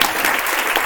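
Loud, dense applause from a conference audience, a sustained wash of many hands clapping close by with no pauses.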